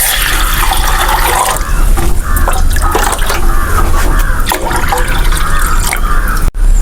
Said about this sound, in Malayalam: ഇനി ഒരു പാത്രത്തിലേക്ക് രണ്ട് കപ്പ് വെള്ളം ഒഴിച്ച് ചൂടാക്കാൻ വെക്കാം